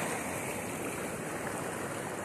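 Steady rushing creek water in the Riacho Seco stream as someone bathes in it, a continuous broad splashing flow that stays loud and even throughout.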